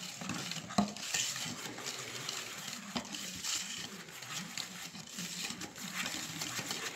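Creamed butter and icing sugar for an almond pear tart are stirred in a bowl, giving a soft, quiet scraping and mixing sound with occasional light clinks of utensil against the bowl.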